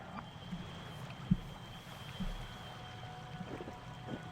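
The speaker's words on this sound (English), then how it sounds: "There's the creek" A creek flows steadily in the video game Year Walk, giving a soft, continuous watery rush in the background with a few faint splashy accents and no talking.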